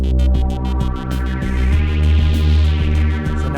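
Modular synthesizer music runs through a reverb effect, a throbbing pulsed drone with repeating tonal notes and a long washy tail smoothing the attacks, loud and steady with no voices.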